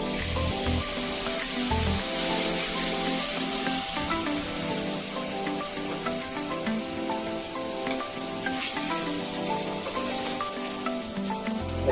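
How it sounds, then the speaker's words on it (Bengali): Ground spice paste and a little water sizzle steadily in hot frying oil while a katla fish curry is being cooked, making a continuous soft hiss with faint music-like tones beneath it and no speech. "মশলা বাটা ওই জলটা দিয়ে দিব অল্প, মশলাটা কষানোর জন্য।"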